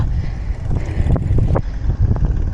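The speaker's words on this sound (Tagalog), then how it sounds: "Sarap ng hangin. Parang hinihipan." Loud, gusty wind buffets the microphone while cycling a gravel route near Baguio, with a rough low rumble and brief surges of rushing air throughout the short stretch.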